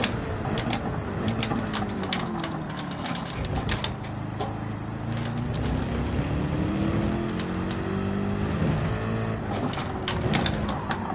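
A BMW race car in the Gran Turismo racing game, with a steady loud engine drone that rises and falls with gear changes and turns, joined by tyre and road noise, and no talking.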